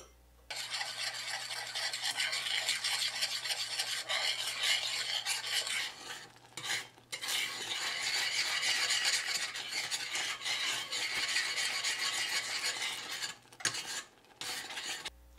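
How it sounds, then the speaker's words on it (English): A custard mixture for eclair filling is stirred steadily in a pot over medium-high heat, giving a continuous close scraping and swishing with brief pauses near the middle and the end. "Stir it consistently for about 3-5 minutes."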